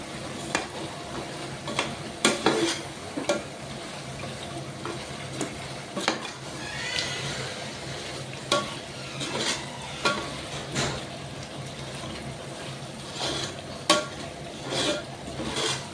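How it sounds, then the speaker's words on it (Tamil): Chicken frying in cooked biryani masala, with a steady close sizzle and repeated sharp scrapes and knocks of a spoon stirring through the pan. "பிரியாணிக்கு மசாலா நல்லா வெந்த உடனே சிக்கனை சேர்த்துக்கிடுவோம் மக்களே"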